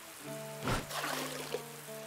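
Rain in the video game Dead in Vinland, a soft hiss of falling water that swells briefly, heard under sustained tonal game music.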